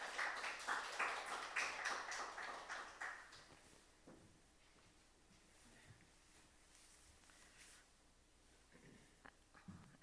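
Audience clapping at a Sunday church service, a short burst of applause that quickly fades into quiet room noise with a few scattered taps and soft movements.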